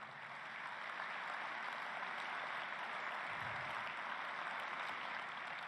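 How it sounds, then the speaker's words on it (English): A large crowd at a police chiefs convention in Orlando, Florida applauds steadily for about six seconds, a dense, even wash of clapping with no voices over it. "give him a big round of applause for all of our police chiefs in Florida"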